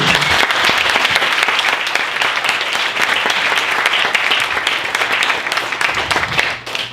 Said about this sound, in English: So let's give them both a round of applause for me.